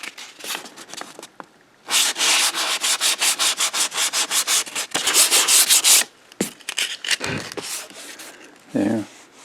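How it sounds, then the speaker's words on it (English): Hand sanding with 220 grit sandpaper over a dried repair coat on a Mercedes-Benz W126 S-Class leather seat, rapid rhythmic rasping strokes, close and loud, in bursts with short pauses. "It's dry, and I'm going to sand it with"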